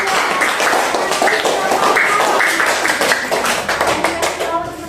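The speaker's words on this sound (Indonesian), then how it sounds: "Oke, tepuk tangan." Students in a school classroom clap their hands together during a lesson on zakat fitrah, producing a steady, dense patter of claps that lasts the whole stretch, with voices talking over it.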